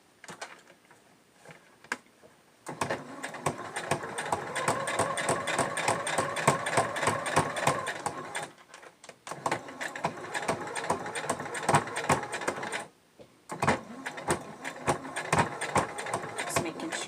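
A home sewing machine stitching fabric for an Olson face mask, a close, fast mechanical rattle running in long bursts with two brief stops, a voice speaking over it at points.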